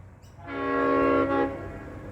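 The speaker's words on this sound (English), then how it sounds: "giving it the full beans on the horn" A steel-hauling freight train locomotive in Australia sounds a loud, sustained horn blast of about a second, with a brief dip near the end, against low rumbling background noise.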